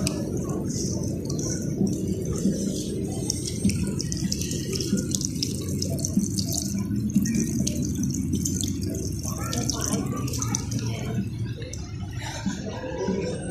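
Water running from a tap during a day excursion, a continuous, fairly loud splashing stream with small drips and clatter, steady from start to finish.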